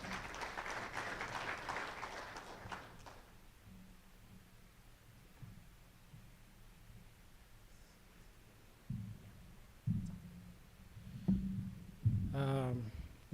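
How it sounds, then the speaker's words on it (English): Applause from a forum audience in a conference room at the Kenya Peering Forum 2024 greets a presenter coming up; it fills the first three seconds, then fades to a low room hum with scattered thumps and rustling. "A round of applause for Kevin, please, as he comes up."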